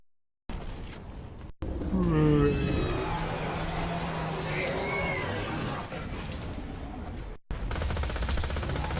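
Sustained turret gunfire and explosions during a Borderlands 2 lava-level fight, loud and continuous with whining, sweeping tones over the rumble; a voice talks over parts of it.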